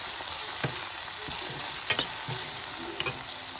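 Tomatoes with turmeric frying in a pan, a steady sizzle broken by several sharp scraping strokes of a spatula as the mixture is stirred, close and without speech.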